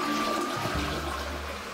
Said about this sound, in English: and yes, flushing the toilet